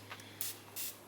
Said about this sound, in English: Then I'm gonna take my spray bottle with water in it